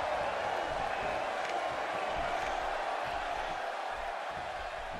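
Steady crowd cheering from a WWE 2K18 wrestling match in Universe mode, an Extreme Rules event, forming a continuous broad roar for about five seconds with no single voice standing out.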